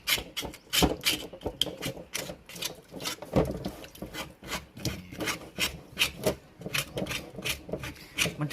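Scraping the charred skin off a roasted pork leg, a continuous close rasping scrape repeated in quick rough strokes with steady rhythm, loud and alone without talk.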